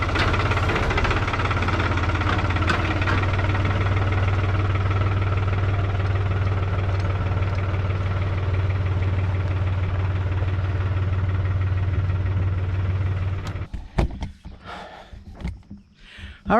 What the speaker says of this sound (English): me pulling this out with the tray, with the tractor